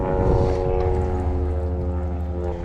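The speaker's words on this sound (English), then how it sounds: "Freaking planes, man." Airplanes drone overhead during a fishing outing, a loud steady propeller-like rumble with layered low hums that fills the whole stretch without pause.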